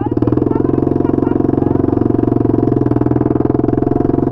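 A Honda XRE 300 motorcycle with its muffler removed idles close and loud, a rapid, evenly pulsing raw exhaust rattle that stays steady throughout.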